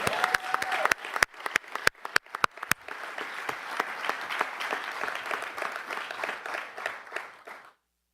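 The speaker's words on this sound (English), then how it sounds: "You can clap to that." An audience applauding during a mayor's leadership announcement, starting with a few scattered sharp claps that swell into steady clapping from a moderate crowd before cutting off abruptly.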